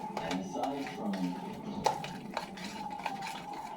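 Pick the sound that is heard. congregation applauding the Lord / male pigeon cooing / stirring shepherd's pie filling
stirring shepherd's pie filling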